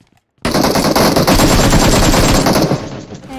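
Sustained automatic gunfire in PUBG Mobile, a loud rapid burst of shots that starts abruptly after a short silence and continues for several seconds.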